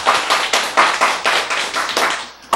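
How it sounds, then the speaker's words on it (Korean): Several sharp hand claps close up, in an irregular rhythm of about ten bursts over a few seconds, with no talking over them. "박수, 맞아요."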